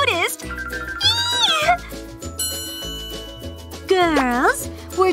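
A voice imitates a cat's meow in a cartoon-like, drawn-out way, giving two sweeping meows over bright jingling music with chimes and a bouncy bass.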